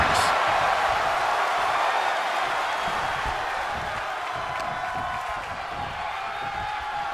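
The crowd at a wrestling match in the video game WWE 2K24 keeps up a steady, broad roar of cheering that fades slightly over time, with a brief whoop near the start.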